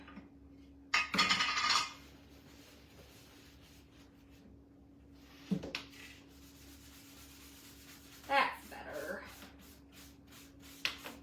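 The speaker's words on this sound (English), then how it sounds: "So we'll just sand it quickly." Hand sanding on a stained wooden workshop sign: three short bursts of scratchy rubbing, separated by pauses, soft and close against a quiet background with a faint steady hum.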